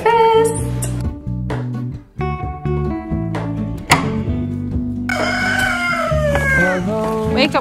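A rooster crows repeatedly in the morning at Babylonstoren wine farm in the Cape Winelands. The drawn-out calls are fairly loud and sound over steady background music.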